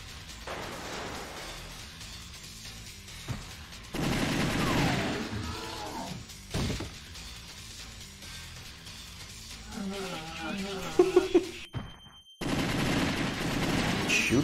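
Rapid bursts of video-game gunfire from The Typing of the Dead, loud volleys broken by short pauses and a brief silent gap, with busy game sound filling the background.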